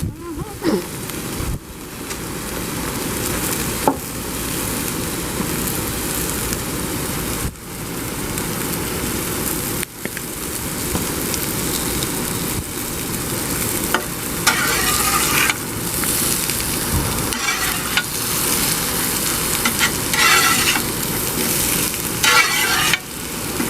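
Potatoes and country-style pork ribs frying on a hot Blackstone griddle outdoors at an RV, a steady dense sizzle punctuated by occasional spatula scrapes and taps, close and continuous.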